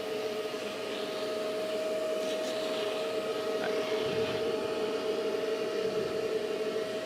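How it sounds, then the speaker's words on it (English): A vacuum cleaner runs steadily as it pulls dust off a plate, giving a constant whirring hum with a high tonal whine at close range and no talking. "I'm going to vacuum this off again."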